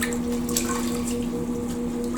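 Water draining and trickling out of the bottom of a toilet bowl stained with lime and rust deposits, a steady wet swishing and dripping with a constant low hum, no talk.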